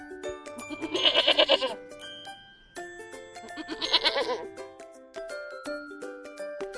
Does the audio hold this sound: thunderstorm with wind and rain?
no